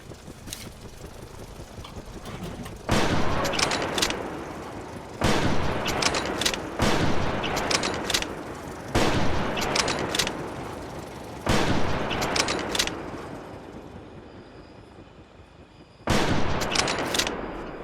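Shotgun fire in the prehistoric hunting video game Prehistoric Hunt: about six loud, heavy blasts, each ringing out for a second or more, separated by short gaps of quieter ambient rumble.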